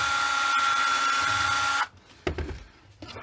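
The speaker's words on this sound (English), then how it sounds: "I wonder if drilling that on a little bit of an angle like this would make it a little bit easier." Power drill boring a hole at a slight angle while building an ugly balun for HF, a steady loud whine for almost two seconds that cuts off abruptly, followed by a few brief clicks and handling knocks.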